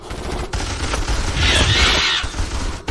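Sustained gunfire and explosions from a Starship Troopers: Terran Command battle, a loud dense fusillade of overlapping shots that swells in the middle of the clip and keeps going throughout.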